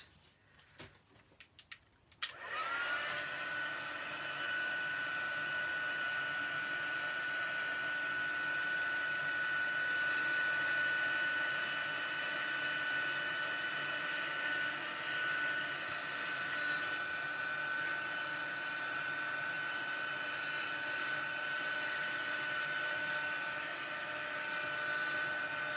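A heat tool or dryer blows a quick blast over paper leaves for a crafting project, switching on after a brief moment and then running as a loud, steady whirring hiss with a thin whine for the rest of the time.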